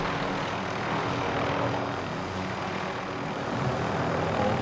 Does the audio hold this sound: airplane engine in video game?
yes